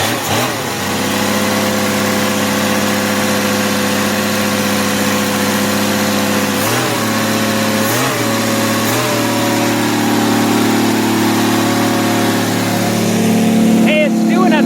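A vehicle engine idles steadily after a new carburetor has been fitted. It runs in a close, even hum, is blipped a few times midway, and the revs rise slightly near the end.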